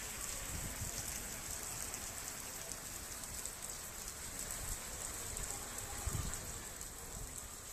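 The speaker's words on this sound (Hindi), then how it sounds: "माना जा रहा है कि दिल्ली में मानसून ने दस्तक दे दी है और ये मानसून की बारिश है।" Steady monsoon rain falling in Delhi, a dense even hiss of drops on surfaces lasting throughout, with a couple of soft low thumps and no talking.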